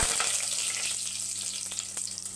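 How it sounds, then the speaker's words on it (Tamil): Fennel seeds and curry leaves crackle in hot oil, a steady close hiss of frying with a few small pops, and no voices. "எண்ணெய் ஊற்றி வச்சுருக்க சோம்பு போட்டுக்கலாம் கருவேப்பிலை"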